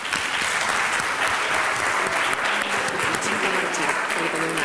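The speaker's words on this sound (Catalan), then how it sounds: "Un aplaudiment." Dense, sustained applause from an audience at an award ceremony for the best high school blog in the Maresme, holding steady and loud throughout with scattered voices mixed in.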